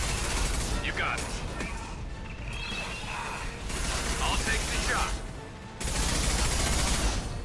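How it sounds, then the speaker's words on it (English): Fire bullets ring out in the video game Mass Effect 2 as bursts of sharp, loud gunfire with clanking mechanical impacts, broken by brief pauses. "we're shooting fire bullets"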